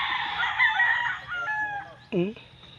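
Close chickens cackle on a backyard chicken farm and a rooster gives a strained crow, followed by a short, sharp squawk near the end.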